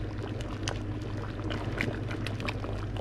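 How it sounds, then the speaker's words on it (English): Chicken broth boils fast in a pot of egusi stew with chicken pieces, giving steady close bubbling with scattered pops and spatters at a fairly low level, with no talking. "I'm kind of trying to cook some of the water off"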